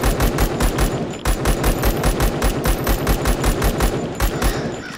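Gunfire from the semi-automatic 8R rifle in the Zero Sievert game: a rapid, evenly spaced string of sharp, loud shots, about five per second, sustained for several seconds with a brief dip partway through.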